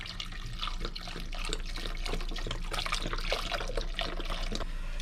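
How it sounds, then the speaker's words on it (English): Chicken stock pours steadily into a pot of onions, a continuous splashing trickle with no talking, fairly close. "I'm just gonna pour chicken stock"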